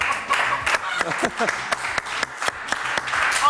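Audience applause for the set designer at a French show, scattered claps of moderate loudness under a voice speaking, with a few sharp individual hand claps standing out.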